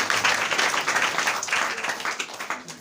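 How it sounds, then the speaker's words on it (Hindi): A church congregation at Sunday worship claps together in thanks to the Lord, a moderately dense, continuous patter of hands with a slight murmur of voices beneath. "ताली बजाकर प्रभु को धन्यवाद करें"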